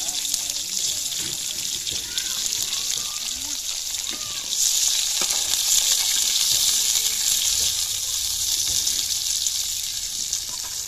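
Tomato pieces and dried red chillies frying in hot oil, a steady close sizzle that turns louder about halfway and runs continuously.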